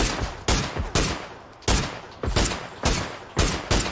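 Gunshots ring out in a video game firefight, with about eight sharp, loud reports spaced irregularly at roughly half-second gaps, each decaying quickly, and no talking.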